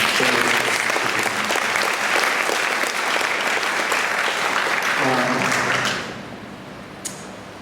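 An audience at a public stem-cell debate gives the panelists a round of applause, with strong sustained clapping that fades out around six seconds and leaves near-quiet with a single late click.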